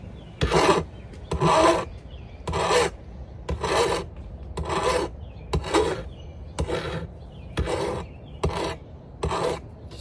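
Rhythmic rasping strokes of a hand file sharpening a Greenworks lawnmower blade, about ten steady back-and-forth passes, close and loud with no talking.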